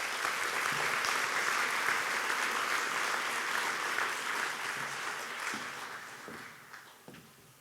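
Sustained audience applause at a charity luncheon as a speaker is welcomed to the stage: dense, full clapping that stays loud and steady, then gradually tapers off near the end.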